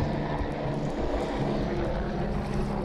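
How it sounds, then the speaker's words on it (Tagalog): A helicopter passing overhead near a lakeside in Laguna gives a steady, dense rumbling drone that holds level throughout with no clear rise or fall. "Ay dumaan pang helicopter"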